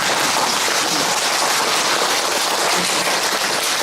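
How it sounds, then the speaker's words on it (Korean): An audience at a bare-hand exercise session claps together in a dense, continuous patter that sounds almost like heavy rain, loud and close and unbroken for the whole stretch, with no voices on top. "박수 한번 치세요."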